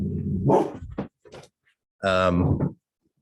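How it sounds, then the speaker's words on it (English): Pet dogs bark indoors at home: a few short barks, then after a pause a longer, drawn-out bark, with a voice briefly heard alongside. "I've got to stop my dogs from barking"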